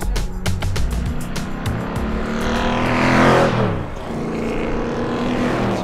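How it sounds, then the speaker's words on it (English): A Ginetta G10 race car roars along a test-day track, its loud engine note rising and swelling as it passes close by, then dropping away with a steady mechanical rumble and no voices. "The car that I'm driving, the Ginetta G10"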